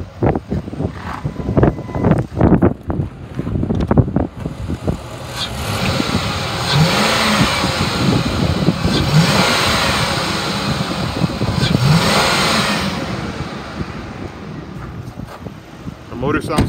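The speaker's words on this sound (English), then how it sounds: "I'm gonna rev it up so you can hear it." A 2005 Ford F-150 XL pickup engine revs up and settles back, a sustained rising roar with rumbling and wind buffeting, preceded by scattered knocks and handling noises up close.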